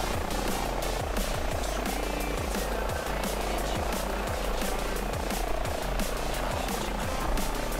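An H145 helicopter in Microsoft Flight Simulator 2020 flies a HEMS mission over Boston, its rotor thumping in a fast, regular beat over a loud, continuous turbine roar.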